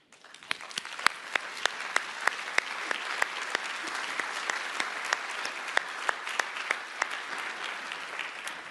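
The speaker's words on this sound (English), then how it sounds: "I hope you appreciate that round of applause." A conference room full of people at a security forum breaks into sustained applause, steady and even throughout, with a few sharper individual claps standing out above the crowd.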